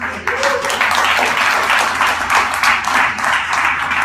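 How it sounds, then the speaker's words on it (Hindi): An audience clapping and applauding, a dense, continuous wash of hand claps at fairly loud level, holding steady throughout. "तालियां बज रही हैं"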